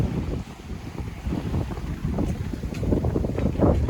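A sailboat cruising at sea with the head sail up, carrying steady rushing wind and water noise with heavy buffeting on the microphone, loud and continuous with no voices.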